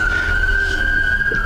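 An ambulance siren sounds outdoors as it passes, a loud, sustained high tone held steady over a low rumble of street traffic, with no voices heard.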